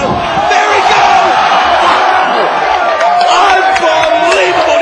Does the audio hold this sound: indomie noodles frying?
no